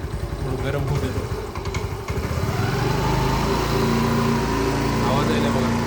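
A motorcycle engine, started on the first kick and warming up, runs at a steady, rumbling idle close by, with a slight lift in tone partway through and no pauses.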